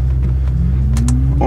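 An Audi RS6-e electric car starting up: a loud, steady low hum with a motor whine rising in pitch over about a second and a half, close by, no talk.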